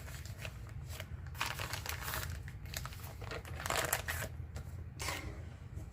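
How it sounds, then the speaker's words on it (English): A paper lunch sack being cut, with crisp rustling, crinkling and snipping bursts close by that come in uneven clusters. "you want to take this bag here, and we're going to cut off this part"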